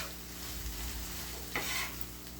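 Onion and dried chili frying in a pan over a low flame, a soft even sizzle with a brief stirring scrape partway through, no voices.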